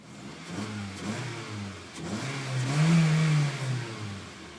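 A 2012 Honda Civic EX-L engine accelerates, its revs climbing in a steady mid-pitched drone that swells toward the middle of the run and then eases slightly, heard close with no talking.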